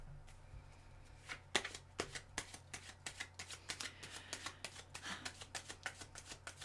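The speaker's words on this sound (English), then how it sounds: "Sorry, I'm having another shuffle." Tarot cards are shuffled by hand in a quiet room, a run of soft, rapid riffling taps that start sparse and grow quicker and denser, close but faint, with a low steady hum behind and no talking.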